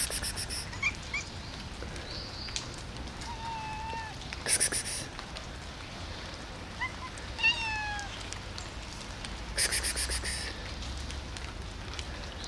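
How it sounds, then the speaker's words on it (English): Steady rain falls on a street as a broad, even hiss throughout, while cats meow intermittently nearby and a few sharp bursts cut through. "Rain."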